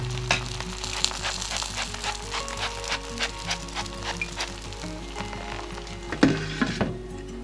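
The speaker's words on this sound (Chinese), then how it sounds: "葱花千层饼放入锅中后，在表面喷一点油，锁住水分，然后盖上盖子烙，烙至底面金黄。" A scallion layered pancake, sprayed with oil, fries in a covered pan with a steady close sizzle and fine crackle. A louder knock and clatter comes near the end.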